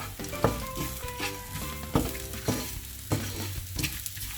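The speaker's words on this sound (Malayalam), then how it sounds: "പിന്നെ കറിവേപ്പില ഇടാം." Curry leaves drop into hot oil for a varutharacha egg curry, crackling and sizzling loudly up close with several sharp bursts and stirring clinks, no voices.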